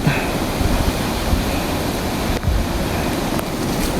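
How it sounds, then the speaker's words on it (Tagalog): Strong ocean waves roar steadily and close by under southwest monsoon winds, a dense rushing wash mixed with wind buffeting the microphone. "Malakas pa rin ang alon at habagat."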